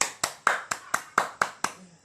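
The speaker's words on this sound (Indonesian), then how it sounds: "Nah, kita berikan tepuk tangan untuk Laskar." In a classroom, about eight crisp claps land in a steady, evenly spaced rhythm, close and distinct, each ringing briefly before the next.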